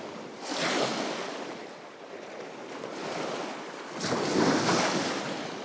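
Ocean waves surge and break on a beach at high tide in slow swells, two louder crashes rising out of a continuous hiss of surf, fairly close.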